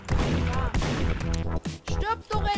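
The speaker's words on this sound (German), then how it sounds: "Das ist ein Schuss." Gunfire in the Garry's Mod video game, a series of loud sharp bangs mixed with excited shouting voices throughout.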